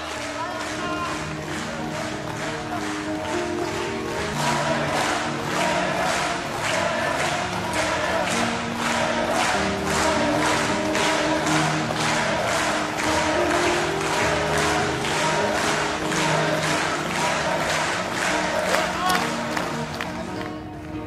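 Wrestling crowd at Hayabusa's ceremony roars with loud, sustained cheering and rhythmic clapping, a dense wall of voices and hands building steadily throughout.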